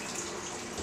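Water pours steadily into a bowl for home cheese making, a soft continuous splash at about 50 degrees, with no other sounds.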